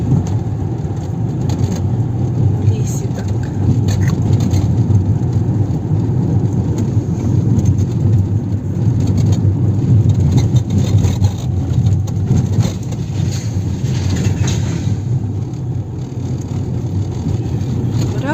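Steady, loud road roar from a car driving through a road tunnel, a continuous broadband rumble of tires and engine that holds evenly throughout.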